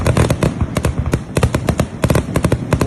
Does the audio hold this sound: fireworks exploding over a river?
yes